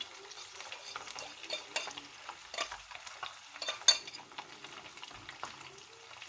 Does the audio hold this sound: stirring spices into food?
yes